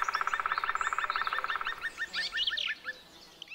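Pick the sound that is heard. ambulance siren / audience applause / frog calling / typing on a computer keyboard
frog calling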